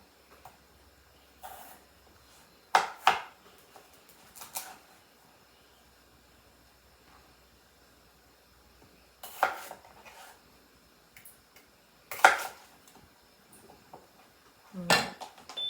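A knife cuts raw potatoes into chunks for home fries in a home kitchen, making a few soft, sharp knocks and clicks on the board at irregular intervals with quiet pauses between, and no talk.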